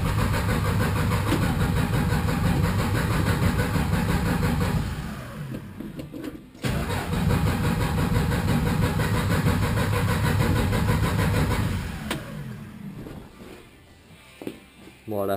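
Old car engine cranking on starting spray and catching, running loudly and steadily before cutting out briefly, then roaring back for several seconds and fading down to quiet at the end.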